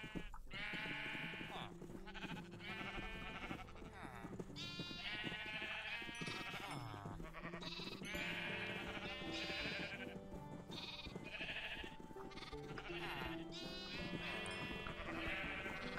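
Many Minecraft sheep on a sheep farm bleat over and over, overlapping calls from a crowded flock, loud and continuous with a low background hum.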